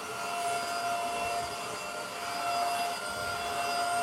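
A Proscenic F20 wet floor-washing vacuum cleaner runs steadily, a continuous motor whine with a sustained tonal hum and airy rush, close and even throughout.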